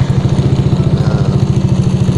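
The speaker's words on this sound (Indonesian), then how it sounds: "Setelah saya nyalakan mesinnya, saya coba nyalakan lagi." A Yamaha NMAX motorcycle engine idles close by with a loud, steady pulsing putter and no talk.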